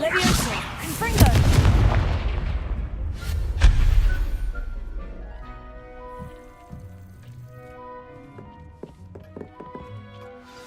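Confringo fire-blast spells in the video game Hogwarts Legacy land as two heavy booming impacts close together, then fade into a soft musical background.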